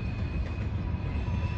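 A loaded coal train passes on a railway on the Toledo line, a steady, loud low rumble with a faint high whine above it, continuous throughout with no talk.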